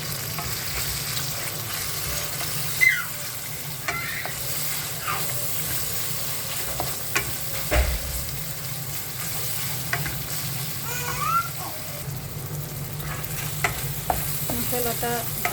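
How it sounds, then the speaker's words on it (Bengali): Spice paste for a fish curry sautés in a pan with garam masala, a soft continuous sizzle broken by scraping stirs and occasional sharper clanks of the spoon against the pot. "মশলাটা ভালো করে কষায় নিচ্ছি"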